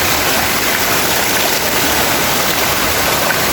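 Heavy, steady rush of rainwater running across a road surface during a downpour, a dense broadband wash that stays loud and constant throughout with no voices.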